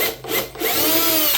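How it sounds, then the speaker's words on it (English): A power drill pre-drills holes in wooden trim on a mailbox post, two short whirring bursts followed by a longer sustained run that winds down, close and loud with no talking. "pre-drill these."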